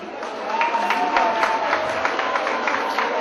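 Audience at a Büyükgümüşlü village association night in 2012 claps steadily in a dense, fairly close burst that swells after a brief start and keeps going.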